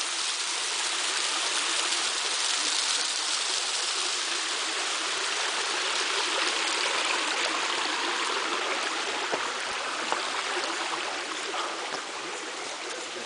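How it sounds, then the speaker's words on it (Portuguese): A waterfall about 40 metres high, Cachoeira do Viado in Piatã, Brazil, roars steadily and loudly, a dense continuous rush of falling water with no pauses, heard close and alone. "Cachoeira do Viado."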